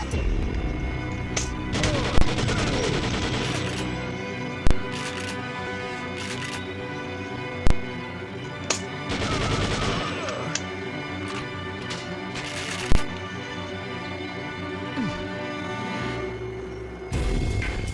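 Assault rifle gunfire in the video game Second Sight: sharp shots ring out singly and in short bursts over a dense, busy game soundscape, loud and close throughout.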